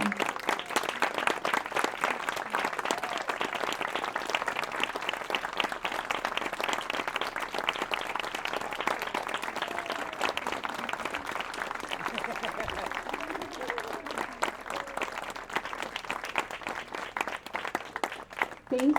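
Audience at a dance performance clapping for the choreographers, a long, steady, dense wash of applause from a seated crowd, with a faint voice or two rising briefly beneath it.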